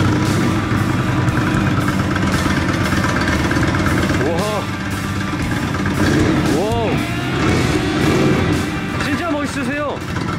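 An Indian motorcycle engine runs steadily at close range with a low, continuous rumble, and a few short rising-and-falling whistling chirps stand out over the engine.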